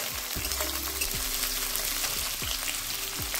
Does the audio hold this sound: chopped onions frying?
yes